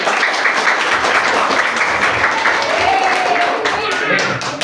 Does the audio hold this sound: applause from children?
yes